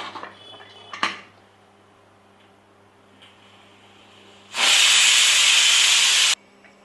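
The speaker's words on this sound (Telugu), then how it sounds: "స్వీట్ కార్న్ కుక్కర్లో పెట్టి 3 విజిల్లు వచ్చేసినాయి కదా" Steam from a pressure cooker cooking sweet corn hisses loudly and steadily for about two seconds. Before it come a few faint clinks and ticks of a pot and lid against a quiet background.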